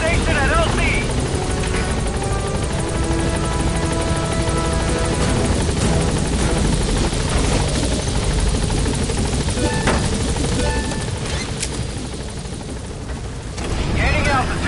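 Support helicopter B-Quad in Metal Gear Solid V coming in to land, a loud continuous rotor thrum and engine roar filling the scene, near and steady, dipping briefly toward the end, with radio voices over it.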